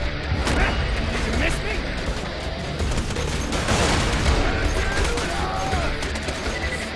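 A rocket launcher fires in Borderlands 2 on Xbox 360, with heavy booms and explosive blasts rolling over dense, continuous gunfire and battle noise. Voices can be heard through the din.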